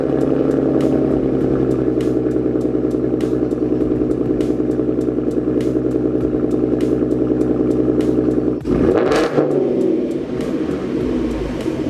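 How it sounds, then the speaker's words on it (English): A Ford Mustang runs close by at a steady, clattering idle while backing up, its low engine hum holding level with faint ticks, then a sharp roar of revs near the end. "I'm about to back up the car so I can put them in the trunk"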